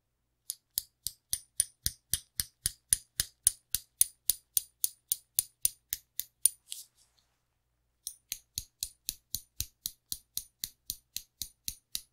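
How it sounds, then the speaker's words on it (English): A hammer taps a nail in a quick, even series of about twenty light, close strikes, then a short pause before the regular tapping resumes, quiet and alone. "it's a hammer hitting a nail"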